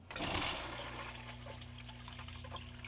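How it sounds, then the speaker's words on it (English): Water rushes through a gold sluice running over Lynch Mining Diablos pit paydirt, a sudden gush followed by a steady close splashing and trickling flow with a low motor hum beneath. "We got the sluice all ready to go. Let's fire this baby up"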